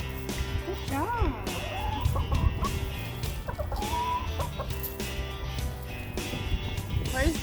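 Backyard chickens cluck and chirp in a busy flock at snack time in the snow, with repeated short rising calls over a low background while a person talks nearby.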